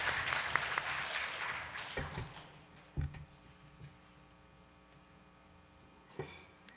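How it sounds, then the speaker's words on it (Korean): Audience applause at a digital economy forum session, a dense burst of clapping that tapers off within a few seconds into scattered claps and room hum, with a couple of isolated claps later. "여러분의 힘찬 박수로 환영을 부탁드리겠습니다."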